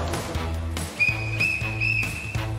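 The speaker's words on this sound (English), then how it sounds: "Three whistles means he's on his way in." A lifeguard blows three short, shrill whistle blasts, evenly spaced and clear above a busy background of low, repeated rumbling tones.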